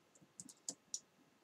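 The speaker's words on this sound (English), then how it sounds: "So now if I click X on the keyboard" A few light, separate clicks of a computer keyboard key, close and fairly quiet, spaced irregularly over a faint room hush with no talking.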